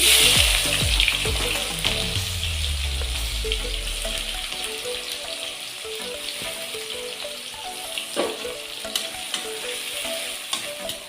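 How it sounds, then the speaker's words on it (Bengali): Loud, steady sizzling of onions frying in a pan, with a few clinks of stirring near the start; the hiss carries on evenly throughout. "পেঁয়াজটা আমার একটু ভাজা ভাজা হয়ে আসলে"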